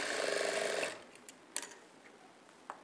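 Sewing machine stitching a blouse shape belt, a fast steady mechanical whir for about a second that then stops, followed by a few faint clicks and taps.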